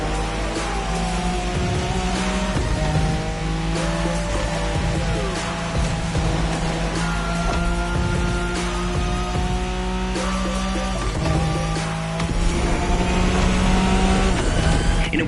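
Nissan Skyline racing in The Crew Motorfest, a Wangan-style high-speed race: a steady, loud engine drone holds throughout with shifting harmonic pitch as the car accelerates, alongside other cars passing, with no pause in the engine noise.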